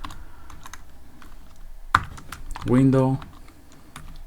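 Keystrokes on a computer keyboard come as faint, scattered taps under a voice, with one sharp click and a brief spoken word partway through.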